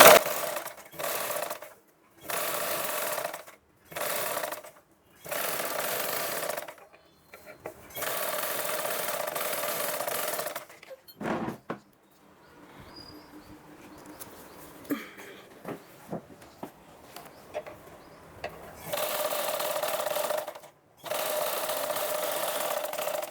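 A sewing machine stitching piping onto a blouse sleeve runs in loud, close bursts of rapid whirring, separated by short pauses and a longer quiet stretch of handling noises before stitching resumes.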